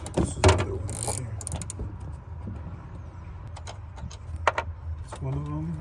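A wrench works loose a bolt on a Honda S2000 coilover during installation, producing a few scattered metallic clicks and ratcheting taps up close, with a voice talking faintly in between.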